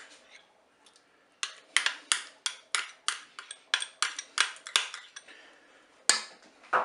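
A spoon stirs crème fraîche into a sauce in a Cookeo electric pot, giving a steady series of sharp metallic clinks and scrapes against the pot, about a dozen in quick rhythm, close and fairly crisp.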